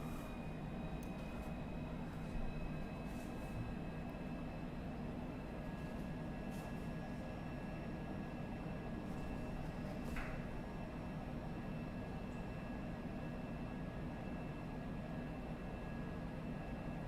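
Microsoft Flight Simulator 2020 aircraft engine held at full throttle, a steady loud drone with a constant hum and high tonal whine running unbroken throughout, no talk.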